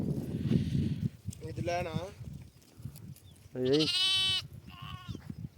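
Loud, wavering bleats of lambs and sheep ring out close by, a few separate calls with a low murmur of the flock between them.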